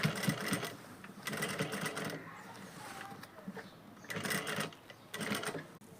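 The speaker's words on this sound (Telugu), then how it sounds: "ఇది స్పీడ్గా కుడితే కాదు పని, నెమ్మదిగా ఇలా కుట్టుకోవాలి" A sewing machine slowly stitching a cut-work blouse: close, rattling bursts of stitching start and stop in an uneven rhythm, with quieter handling between runs.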